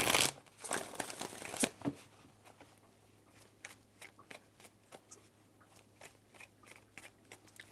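A riffle of tarot cards being shuffled, followed by a series of softer card snaps and flicks, quiet and close.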